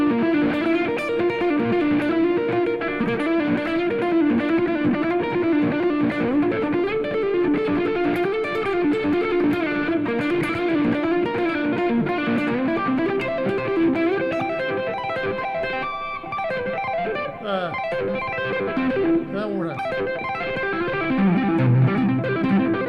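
Electric guitar played through heavy distortion and high gain, dense sustained notes and fast runs. It plays loud and continuous throughout, with no voices over it.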